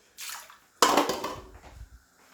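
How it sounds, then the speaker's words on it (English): Water is poured from a bowl into a simmering okra, spinach and tomato sauce, giving a brief splash and then a louder sloshing pour that fades into faint trickles. The sound is close and there is no speech. "just a little bit of water"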